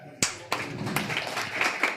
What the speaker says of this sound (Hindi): सर के लिए एक बार जोरदार ताली होना चाहिए